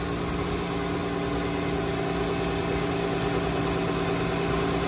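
A 3.6-liter six-cylinder engine in a 2014 Chrysler Town and Country idles steadily under the hood, a continuous low hum with a faint mechanical hiss, close and even throughout.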